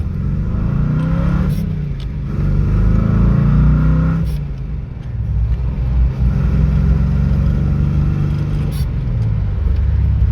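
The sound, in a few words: classic vehicle engine running and revving after carburettor work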